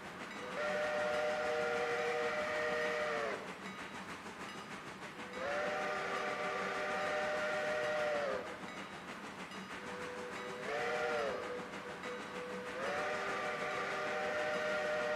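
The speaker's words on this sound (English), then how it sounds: "And that whistle sounds good." Steam locomotive whistle in the railroad game Railroader sounds in loud, sustained blasts: two long ones, a short toot, then another long blast, with a steady rumble underneath.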